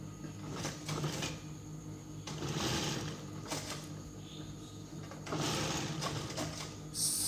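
A sewing machine stitches a rickshaw hood, running in repeated bursts of whirring mechanical chatter separated by short quieter pauses, close and without talk.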